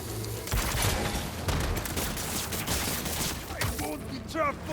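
Rapid bursts of gunfire from soldiers at a base in Marvel's Spider-Man 2, a dense fusillade of overlapping shots with booms, loud and close, continuing steadily for several seconds before easing.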